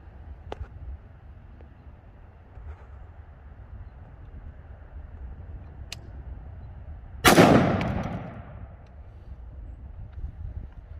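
A single rifle shot from old, rusty, water-logged steel-case ammunition loaded alone in a 20-round magazine, a loud sharp crack with a short rolling decay, standing out against a quiet outdoor background.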